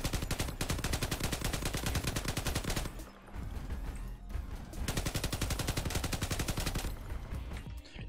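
Rapid automatic gunfire from a weapon in the video game Crossout rattles in long bursts with a short pause in between, crisp and punchy.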